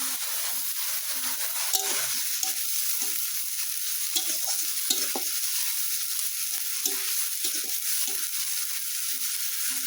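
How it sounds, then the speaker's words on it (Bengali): Onion paste frying in a pan gives a steady, close sizzle for about ten seconds, broken by soft intermittent stirring scrapes, with no talking. "পেঁয়াজ বাটা দিয়ে কিছুক্ষণ ভাজা নিছি।"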